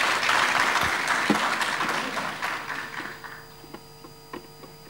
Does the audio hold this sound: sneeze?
no